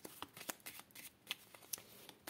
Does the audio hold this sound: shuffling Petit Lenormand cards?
yes